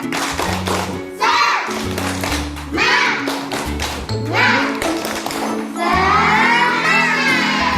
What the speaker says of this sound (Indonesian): kita lakukan tepuk semangat bersama-sama. Tepuk semangat.